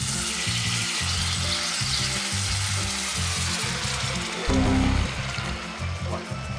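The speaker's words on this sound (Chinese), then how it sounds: "煎餃係擺喺度等佢煎。" Dumplings pan-frying in a wok, a loud, steady sizzle and crackle of oil close by, with a few scrapes and shifts of the pan and a brief surge of hissing near the end, no talk.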